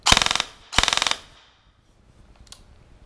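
G&G ARP9 airsoft gun firing on full auto, two rapid bursts of sharp mechanical cracks at close range, then near silence.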